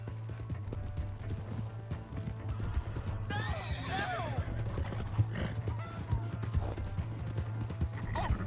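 Horse hooves clip-clop in Red Dead Redemption 2 over a steady low hum, with a horse whinnying midway and voices talking.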